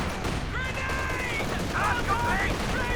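Suppressing machine gun fire in Company of Heroes 2 crackles through a busy battlefield mix, steady bursts under a speaking voice with faint whistling tones overhead.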